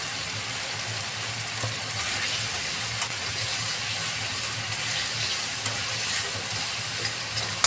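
Chopped green chillies and salt frying in oil in a pan give a steady, close sizzle for several seconds, with faint scraping from stirring and no talk.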